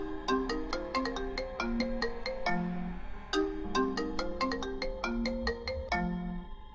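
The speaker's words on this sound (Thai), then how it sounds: "ครั้งนี้คุณน็อตเลยตัดสินใจโทรไปหาผู้จัดการโรงงาน" A phone ringtone plays a repeating melodic chime phrase several times in a row, clear and steady, while a call goes out to a factory manager late at night; no one speaks.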